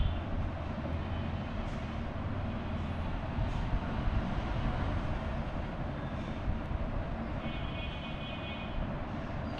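Airplane engine in the mobile game Indian Bike 3D, a steady broadband drone holding level throughout as the aircraft comes in to land, with no talking over it.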